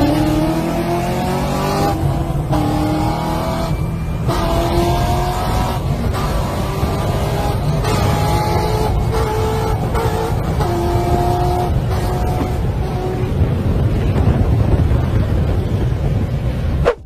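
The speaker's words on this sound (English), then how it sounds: "In the upcoming clip, you can see a Corvette C06 owner absolutely disrespecting this V8 Camaro." A Corvette C06 and a V8 Camaro drag racing, engines roaring loudly and steadily through repeated rising upshifts, with throttle cuts between gears across about seventeen seconds of sustained acceleration.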